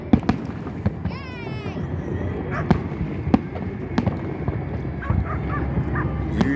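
New Year's Eve fireworks over the river between Philadelphia and Camden, fired from a barge: repeated sharp booms and crackles echo across open air, with a whistling rocket rising early on and crowd chatter and a barking dog nearby.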